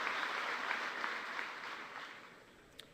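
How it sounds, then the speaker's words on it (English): A standing audience at a Fisker announcement applauds steadily, a fairly distant, even wash of clapping that fades slightly over a few seconds. "Go ahead, on your feet, give them a round of applause."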